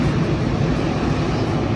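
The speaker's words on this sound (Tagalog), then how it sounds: "Ang sarap pakinggan ng tunog ng dagat." Ocean surf at Virginia Beach on a winter day makes a continuous, dense wash of breaking waves, loud and steady, with no voices over it.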